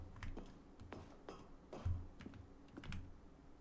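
A keyboard press used as the interact sound in the video game The Stanley Parable: Ultra Deluxe gives a series of quiet, close key clicks and taps in an irregular rhythm, spaced out with brief pauses between them.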